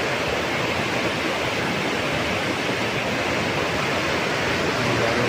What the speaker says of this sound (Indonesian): Ini adalah beberapa tingkatan lawi terjun di Kecamatan Bukit Tusam,